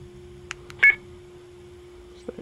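A short burst of electronic payphone beeps, the coin tone for 5 cents, sounds briefly over faint background hum, then a couple of quieter tones follow near the end.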